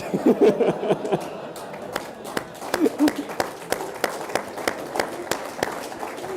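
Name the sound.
audience clapping at a lecture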